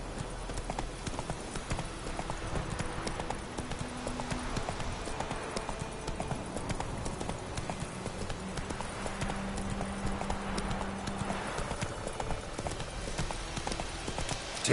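Roach, the horse in The Witcher 3, gallops with continuous rhythmic hoofbeats over a busy game soundscape, with faint voices in the background.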